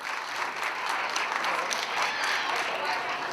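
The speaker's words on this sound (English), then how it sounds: "Come on, give them a round of applause," An audience at an Oholei Torah staff and family latkes event breaks into steady, dense applause, moderately loud and sustained throughout, with no talking over it.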